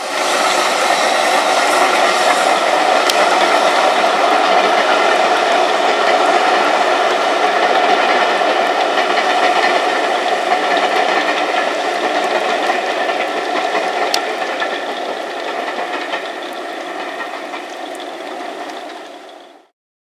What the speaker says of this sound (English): The train should come from the right and go down that bit of track there.